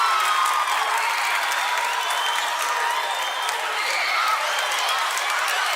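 A crowd at a live stage event applauds and cheers steadily, a dense wash of clapping that holds at an even level from start to finish with no voices standing out.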